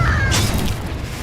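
Confringo explosion spell cast in the video game Hogwarts Legacy, a short, dense booming blast with a rumbling low end and a brief bright whoosh, loud and close.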